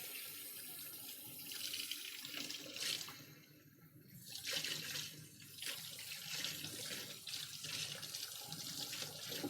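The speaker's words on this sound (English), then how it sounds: "I'm gonna run this under cold water real quick." A kitchen tap runs cold water over boiled eggs in a sink, giving a steady, close hiss and splash with shifting gurgles as the flow hits the eggs.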